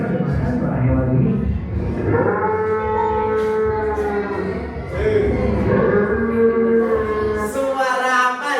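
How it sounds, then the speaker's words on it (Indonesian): Recorded cow mooing, played back in a classroom, with several long, low, drawn-out moos carrying rich harmonics and a murmur of voices in the background. "Kita buktikan apakah itu betul suara sapi."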